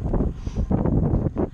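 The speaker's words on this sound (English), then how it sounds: "little windy." Wind blows outdoors, a steady low rumble buffeting the microphone with gusts rising and falling throughout.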